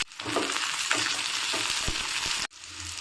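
Chopped onion hits hot mustard oil in a pan, giving a loud, steady sizzle with stirring scrapes, briefly cut off near the end before the frying resumes.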